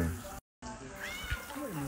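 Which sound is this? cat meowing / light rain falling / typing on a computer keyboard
cat meowing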